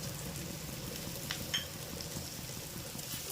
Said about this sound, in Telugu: ఇలా వేగాలండి కాసేపు